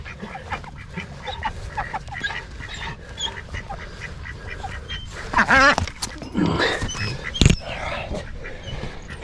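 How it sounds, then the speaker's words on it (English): Indian runner ducks quack in bursts while being caught outdoors, with the calls loudest and most agitated toward the middle. A sharp thump or scuffle sounds near the end. "these little Indian runner ducks cannot fly very well and they're easy catchers"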